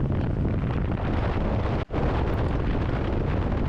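Steady, loud wind buffeting a microphone while riding a motorcycle at constant speed in cold weather, a continuous broadband roar broken by one very brief dropout midway, with no voices.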